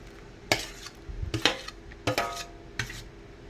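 A spoon scrapes creamy pasta out of a pan into a greased baking tray for the first layer, giving four distinct metallic clinks and scrapes spaced about a second apart, close and fairly quiet.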